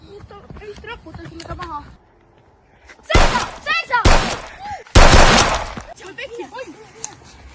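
Video game gunfire erupts in two loud, dense bursts of rapid shots, with excited voices talking over and between them.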